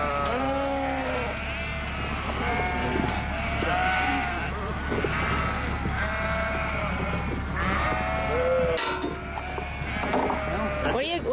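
Ewes and lambs bleat repeatedly, some near and some farther off, forming a busy flock chorus over a steady mechanical hum with occasional rattling clanks.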